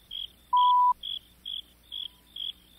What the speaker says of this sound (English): Soon there were two crickets chirping.